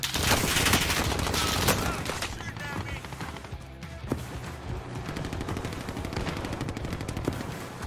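Rapid automatic gunfire from Warzone, a battle royale shooter, rattling in dense, loud bursts throughout with a brief lull midway, layered with other game effects.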